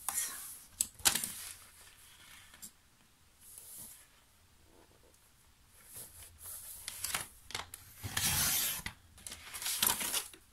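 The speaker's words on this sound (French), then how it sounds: "Donc je découpe 20 cm sur 20 cm." Card paper being cut to size for a folding squash card, with soft, close rubbing and scraping strokes in irregular bursts that grow heavier toward the end, alone without talk.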